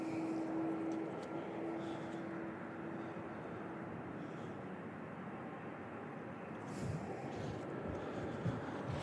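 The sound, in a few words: UPS cargo airplane, Flight 2908, at Louisville airport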